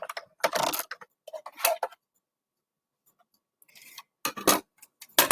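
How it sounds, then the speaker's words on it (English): Stampin' Up Cut and Emboss mini machine cranked by hand while embossing a gingham heart on cardstock, giving several short bursts of grinding, clicking rolls separated by pauses, close and fairly quiet. "bring in my Stampin' Cut and Emboss machine again"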